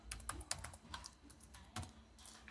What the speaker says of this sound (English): Then it will require me to type my password.